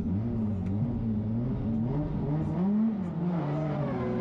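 A drift car accelerates hard at a Formula Drift Japan round at Ebisu, its engine note rising and falling in steady revving sweeps, loud and close, with no voices over it.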